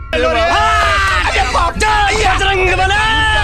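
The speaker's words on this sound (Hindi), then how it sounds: "और फिर प्लेन स्टार्ट हो जाती है और सारे लोग अंदर खुशी से चीखने चिल्लाने लगते हैं।" A crowd of passengers inside a plane yells, whoops and shouts with joy all at once, loud and continuous, with many overlapping excited voices.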